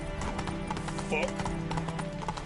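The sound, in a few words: horse galloping in Witcher 3 video game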